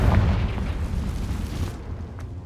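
A Confringo fire spell blasts in Hogwarts Legacy, a loud rumbling explosion with a deep sustained boom that fades out over a couple of seconds, no talking over it.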